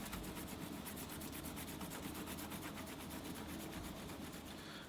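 A knife blade being stropped on a scrap of leather loaded with jeweler's rouge, giving a steady, close rubbing rasp with quick repeated strokes that run continuously.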